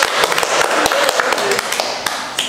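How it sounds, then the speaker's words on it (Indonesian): Brief applause from a small audience at a hospitality-industry podcast, honoring young vocational-school students; steady, dense clapping fills the whole moment, fairly close and even. "Coba tepuk tangan."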